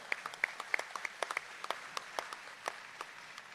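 An audience at the Ohio State Fair Sale of Champions gives a brief, sparse round of applause, individual claps distinct and fairly distant.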